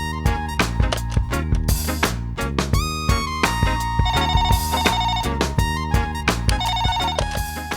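Telephone ringtone playing as a call is placed in a Tamil television serial, a loud repeating electronic melody with a steady beat and bright trilling phrases, alone without talk.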